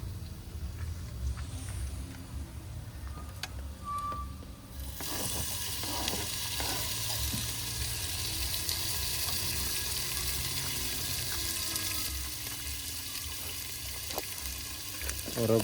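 Tomatoes drop onto browned onions in a frying pan, sparking a sudden, louder, hissing sizzle that holds steady and close after a quieter stretch of low frying, with no talk.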